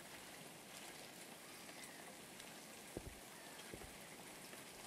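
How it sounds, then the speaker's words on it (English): Steady rainfall during a storm in a video-game rainforest hisses evenly throughout, with a couple of soft low thuds near the end. "I kind of expected there to be a lot of rain here."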